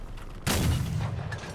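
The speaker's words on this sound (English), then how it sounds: "I really wish that my cannon shots would actually hit people without aiming." Heavy cannon fire in the vehicle combat game Crossout: one loud booming shot erupts after a brief quiet, followed by a rumbling, decaying tail and a faint later pop.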